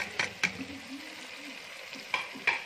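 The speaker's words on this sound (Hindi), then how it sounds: "तकरीबन 30 सेकंड के लिए फ्राई करेंगे ताकि इनका कच्चापन खत्म हो जाए" Tomatoes and spice masala fry in a pan for a chicken karela salan, giving a soft, steady sizzle broken by a few sharp spoon scrapes and knocks.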